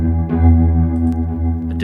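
Sustained UVI Falcon synth patch run through a pure digital filter, a steady chord-like tone with a soft swell and faint chorus-like shimmer, close and alone.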